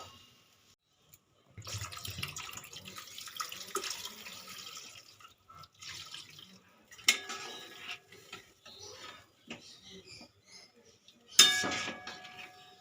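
Water is poured into a cooking pan, with a short splash and trickle, then soft clinks and clangs of utensils against cookware, and quiet gaps between the sounds.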